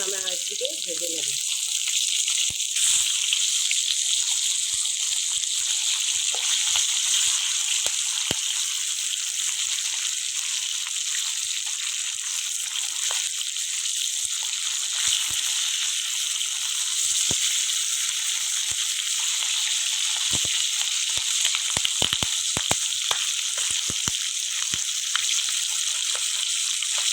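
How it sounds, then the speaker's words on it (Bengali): Katla fish, rubbed with turmeric and salt, sizzles steadily in hot oil in a pan after being turned to fry its second side, a continuous close crackle with scattered sharp pops throughout and no talk. "এখন আমি আরেকদিকে ভেজে নেব।"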